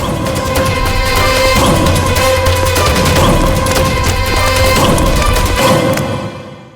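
Dense, crackling burst of gunfire with rapid overlapping shots and crashes, loud and continuous for several seconds before tapering off.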